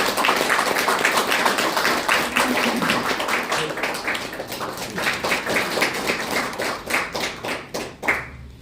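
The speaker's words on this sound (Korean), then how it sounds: "큰 박수로 맞이해주시기 바랍니다" An audience at a campaign office opening applauds to welcome a speaker, fairly close and loud clapping that grows more rhythmic and sparse toward the end before dying out.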